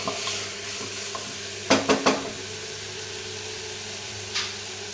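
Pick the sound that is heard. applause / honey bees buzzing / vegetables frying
vegetables frying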